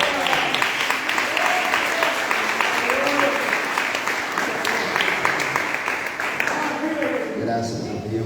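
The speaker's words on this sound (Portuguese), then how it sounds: "Receba o nome de Deus com a linda salva de palmas" Church congregation applauding a pastor, a steady wash of many hands clapping at close to medium distance, with voices talking and calling out over it throughout.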